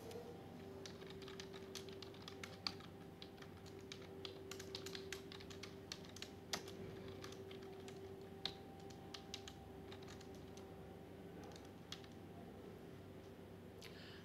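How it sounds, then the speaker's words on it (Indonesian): Steady typing on a computer keyboard while writing a MATLAB script, quiet close key clicks ticking in an irregular stream throughout, over a faint constant electrical hum, with no talking. "Di dalamnya, kita ketik perintah berikut."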